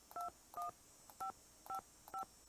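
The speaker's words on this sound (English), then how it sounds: "I love this old rotary kind of style phone." Push-button tone dialing on a retro rotary-look telephone in the game Nancy Drew: Ghost Dogs of Moon Lake, five or six crisp two-tone beeps in a steady rhythm, close and clear with no talk.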